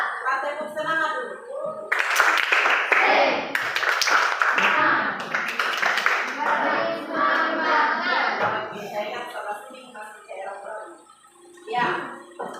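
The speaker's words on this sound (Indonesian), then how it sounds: "Tepuk semangat dulu." Classroom of junior high school students doing a rhythmic spirit clap, with bursts of patterned hand claps mixed with children's chanting voices and a teacher's voice, ending with a short final clap sequence.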